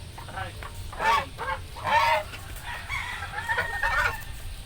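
Chicks peep in short bursts around a few seconds, mixed with hens clucking faintly under low background noise.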